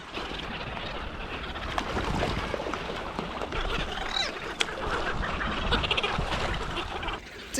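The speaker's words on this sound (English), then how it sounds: "Definitely a bit of a feeding frenzy for the birds." Seabirds squawk and squabble over chum around a boat far offshore on the West Coast, scattered calls mixed with wind, water slaps and engine hum, fairly close and continuous.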